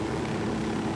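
A helicopter in the Ghost Recon Wildlands video game gives off a steady, fairly close rotor and engine drone throughout a short moment.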